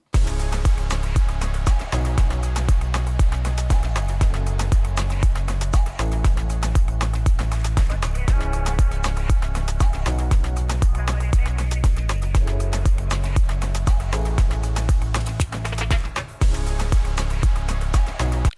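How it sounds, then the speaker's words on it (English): A steady electronic dance beat with thumping kick drums loops continuously, the same rhythmic phrase repeating over and over at a loud, even level. "it repeats the same 32 beats. It's called a phrase. It repeats it over and over again"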